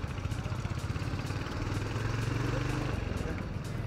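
A motorcycle engine putters close by, its low throbbing rhythm steady throughout and rising slightly in the middle, with no talk over it.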